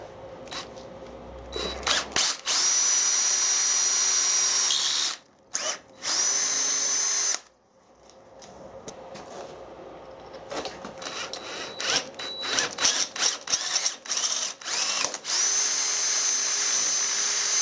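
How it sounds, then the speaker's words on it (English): A power drill whines in repeated bursts, starting and stopping with brief pauses, loud and close, the motor pitch rising and dropping between runs. "I don't really want to go crashing through into the box section with a drill"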